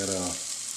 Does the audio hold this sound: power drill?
no